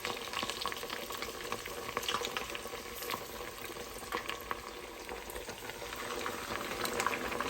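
Large Parmesan-crusted pork chops frying on a stovetop pan, a steady, dense sizzle and crackle that runs unbroken throughout, close and even in level.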